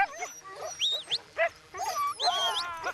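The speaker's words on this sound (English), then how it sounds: "The dogs begin to speed up as Andre gives them the sign." Sled dogs in a harness team in the Russian Far East yelp, whine and bark eagerly in quick overlapping bursts, close and fairly quiet, as the team starts to pick up speed.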